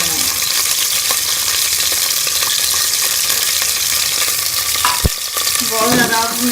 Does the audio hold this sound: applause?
no